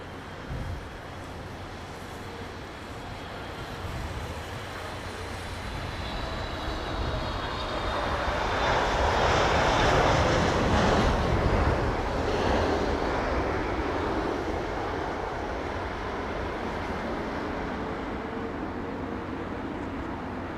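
An aircraft passes at London Heathrow Airport as a broad, rushing engine roar that swells to a peak around the middle and then slowly fades, heard from a distance with no speech.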